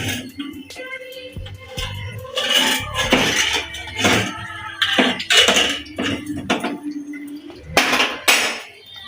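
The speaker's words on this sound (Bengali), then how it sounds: "এই চিংড়ি মাছগুলো দিয়ে দেবো দিয়ে দিলাম দিয়ে দেখুন একটু নাড়িয়ে দিলাম" Shrimp stirred in a metal pot with a utensil, giving repeated clattering scrapes and clinks against the pan in irregular bursts, fairly close and loud, with no talking.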